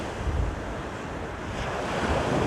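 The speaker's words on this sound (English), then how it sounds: "Can you imagine living here and just listening to these waves all night, every night?" Ocean waves and wind at Pacifica, a continuous roaring wash of surf with heavy wind buffeting against the microphone, steady and loud with a slight swell toward the end, no voices.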